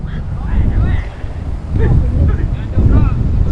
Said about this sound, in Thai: โอ้ลมแรงมากวันนี้